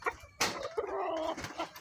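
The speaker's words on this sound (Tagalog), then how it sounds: "Dito yung ating alagang barako." A pet breeding gamecock (rooster) clucks nearby in a few short, close calls, with one longer drawn-out call in the middle.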